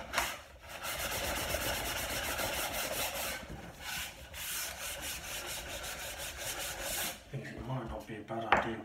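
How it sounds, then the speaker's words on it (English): A wooden dining table being sanded down with coarse grit, giving a steady, close rasping scrape that runs almost continuously with brief pauses between strokes, then breaks into softer rubbing near the end. "let's just get the most of it sanded down"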